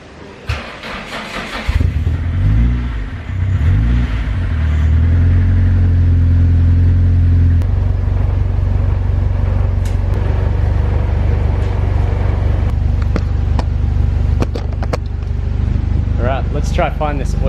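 A car engine cranks and starts, then settles into a loud, steady idle that runs on close by, with voices talking over it near the end.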